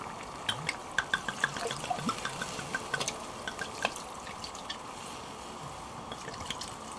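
About half a liter of white wine poured into a pot of Szegedine goulash, a soft steady trickle with light splashy drips, fairly quiet and unaccompanied.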